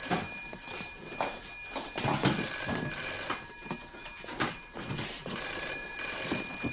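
A telephone rings in repeated electronic bursts, loud and close, under steady room noise and clattering movement, with no talk heard.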